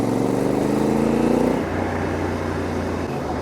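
A Honda Hawk 11 with a 270-degree crank twin runs at around 3000 rpm on a mountain road, a steady loud engine drone that drops slightly in pitch partway through, with no voices.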